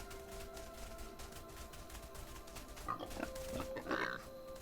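Several pig oinks and grunts from a trio of pigs in the exploration game Everything, short snorting calls rising over a steady ambient music drone in the second half, no talking.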